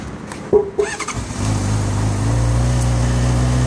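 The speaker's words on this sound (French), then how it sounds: "nous mettons la clé sur position on, ici, mise en route du moteur." A motorcycle engine starts during a licence-test pre-ride check: a few clicks and the starter's whirr, then the engine catches and settles into a steady, close idle with a low rumble.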